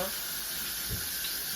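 Fried vegan chicken sizzles and hisses steadily in a hot pan, a constant crackling fry with a faint clunk partway through.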